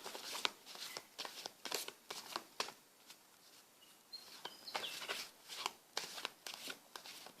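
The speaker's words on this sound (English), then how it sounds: "I'm going to shuffle my cards" Tarot cards shuffled in repeated bursts of crisp riffling and flicking, close and moderately loud, with a few faint chirps in the background.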